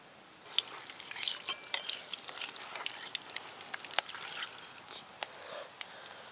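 Palm fruit fritters bubble and crackle as they fry in hot oil, a steady dense sizzle with sharp pops and occasional stirring clinks, fairly close and alone with no talking.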